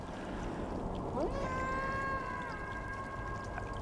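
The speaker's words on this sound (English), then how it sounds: "I hope that's our cat friends meowing after us." A drawn-out, tonal cat meow from the video game Stray rises and then holds steady for about a second over a constant low background hum, fairly close and clear.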